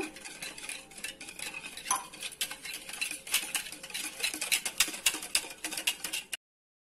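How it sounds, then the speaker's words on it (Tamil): Egg mixed with sugar and a glass of milk is beaten briskly in a bowl for French toast made with wheat bread, giving a steady rapid clatter of utensil against the bowl that runs close and alone for about six seconds. "இதையும் சேர்த்து நல்லா பீட் பண்ணிக்கோங்க"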